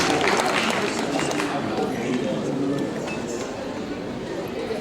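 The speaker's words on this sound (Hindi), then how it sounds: "तालियों के साथ अभिनंदन, वंदन, नमन" An audience applauds at a dance tribute event, with steady, dense clapping from a crowd that holds for several seconds and eases slightly toward the end, while a voice speaks over it.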